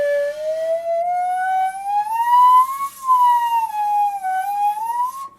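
A single sustained shakuhachi tone, bent by half-covering a finger hole, glides slowly up and down in pitch, clear and close with no talking.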